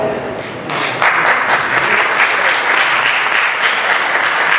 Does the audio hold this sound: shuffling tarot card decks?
no